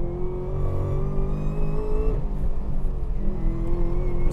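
A Chevrolet Camaro ZL1 1LE is driven hard around Buttonwillow Raceway Park, its engine holding a steady high drone, dipping briefly as it shifts, then climbing again, loud and close from inside the car.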